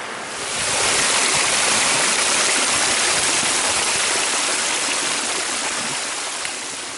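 Mountain stream on the slopes of Ben More pouring steadily over rocks, a loud, continuous broadband rush that swells in after a brief moment and holds nearly constant throughout, with no voices.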